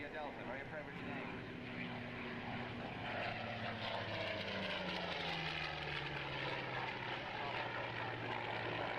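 A propeller aircraft flies overhead, a steady engine drone holding at moderate distance throughout with a gradual pitch drop as it passes, while a voice talks underneath.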